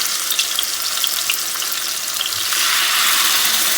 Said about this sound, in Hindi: अब इसके अंदर हम लोग ये पीसेस डाल देंगे और इनको फ्राई करेंगे